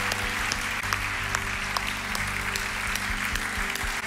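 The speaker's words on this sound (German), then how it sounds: "Lass uns Applaus geben für die Leute, die es gemacht haben." A church congregation claps at an Easter service: continuous, full applause from many hands, steady and fairly loud, over a low hum.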